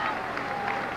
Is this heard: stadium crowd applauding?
yes